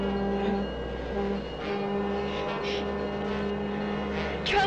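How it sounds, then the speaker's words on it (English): A train rumbles steadily on its approach, a continuous low drone with faint metallic squeals that swell near the end, loud and without talk. "there's a train coming."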